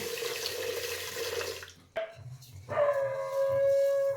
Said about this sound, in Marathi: फक्त साखर बुडेल एवढंच आपल्याला पाणी घालायचं